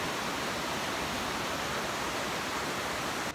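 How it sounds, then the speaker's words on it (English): River swollen after heavy rain, heard as a steady, loud broadband rush of water that holds constant throughout with no other sounds. "you can hear the river."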